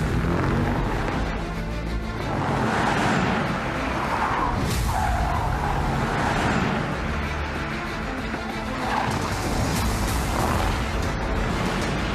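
A Porsche race car drives hard on a track, its engine roaring loud and steady with tire skids and swells of passing noise, and no voices over the din.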